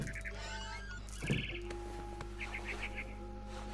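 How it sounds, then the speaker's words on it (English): A barn swallow chirps in the video game What Remains of Edith Finch, a quick run of short bright chirps over a steady tonal hum of ambience. "It was a barn swallow going back to her nest."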